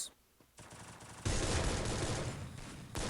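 Gunfire erupts in a shooting video game, with rapid bursts of automatic fire that start after a brief quiet moment and carry on loudly to the end.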